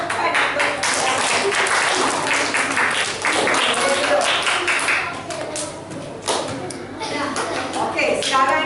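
A classroom full of students claps briskly and unevenly for several seconds, with scattered voices mixed in.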